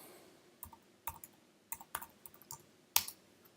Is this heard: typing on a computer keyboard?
yes